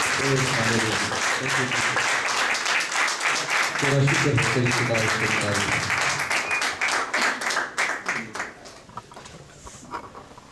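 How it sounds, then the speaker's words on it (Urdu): A church congregation claps loudly in praise during a Saturday service, the applause running over music and voices, then breaking into scattered claps that fade toward the end. "یسوع کے جلال کے لیے زوردار تالیاں بجائیں"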